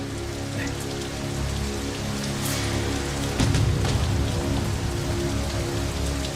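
Rain falls steadily on surfaces, a dense close patter under a low droning background, growing a little heavier halfway through.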